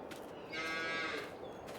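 A cow in the Court Farm Country Park farming video game lets out one drawn-out moo at moderate distance over a steady ambient background.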